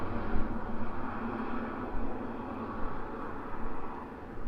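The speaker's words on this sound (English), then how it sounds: "We got a chopper flying overhead." A helicopter passing overhead makes a steady, loud, broadband rumble and whir that holds for the whole stretch with slight swells, near and unbroken, with no talk over it.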